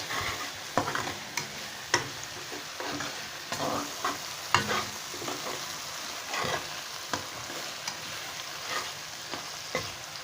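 Ground ginger being stirred in a frying pan, with a steady sizzle under repeated scraping strokes of the spoon at an irregular pace, close and moderately quiet, with no voices.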